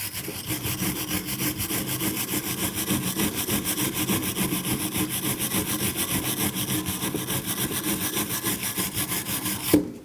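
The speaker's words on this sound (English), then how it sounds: "Using a wire brush, we're going to go through and we're going to clean where our tins are going to sit" Rapid rhythmic scraping of a wire brush scrubbing the brake bracket where the pad tins sit on a 2016-2025 Chevrolet Malibu, close and loud, steady strokes alone for ten seconds.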